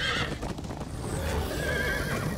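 Horse neighing in the Minecraft video game, a loud whinny with clip-clop hoofbeats and game ambience throughout, heard alone without talk.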